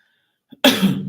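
A single sharp cough bursts out after a brief small sound, close and loud, then trails off.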